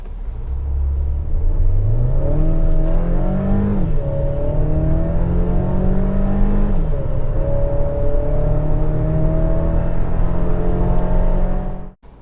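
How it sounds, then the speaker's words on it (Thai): Mercedes-Benz GLA 200 in sport mode accelerating hard from 0 to 100 km/h, its engine droning loud and close with rising revs, two brief dips at gear changes, then steady climbing pitch until an abrupt cut near the end. "เดี๋ยวเรามาลองอัตราเร่งกันในโหมดสปอร์ตนะครับ"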